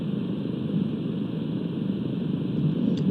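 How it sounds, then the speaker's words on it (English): A helicopter over Kyiv sounds as a steady, unbroken low drone heard through a city camera, moderately loud and distant, with no clear change across the stretch. "to me it sounds like a helicopter"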